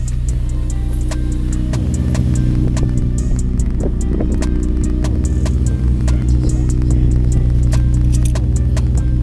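Infiniti G35 engine idling after a fuel pump replacement, a steady low hum with a regular light ticking over it, close and unchanging throughout.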